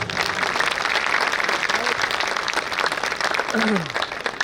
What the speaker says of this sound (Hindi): एक बार फैज साहब के लिए फिर से ताली।